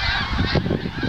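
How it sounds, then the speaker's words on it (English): A flock of snow geese calls overhead outdoors, a dense continuous chorus of overlapping honks and yelps throughout, fairly loud and steady with no talk. "You can tell snow geese apart. From Canada geese, because they just go"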